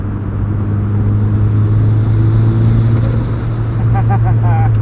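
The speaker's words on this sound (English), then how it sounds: "it gets all the satisfying sounds of like a big turbo tuner car" A steady, loud engine drone and whir from a turbocharged 2003 Mazda Miata four-cylinder running close by, with a faint rising whine and a few short chirps near the end.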